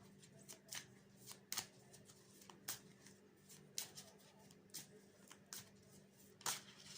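Tarot cards are shuffled in a quiet room, with soft, irregular riffling and snapping bursts recurring every second or so, close and faint.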